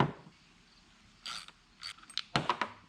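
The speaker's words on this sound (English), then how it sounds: "we have to take this nut off and then remove this mechanism here" Metal clicks and ratcheting snaps come from an 11mm nut being loosened on the headlight motor assembly of a 1986 Pontiac Fiero GT, in short close bursts separated by quiet pauses.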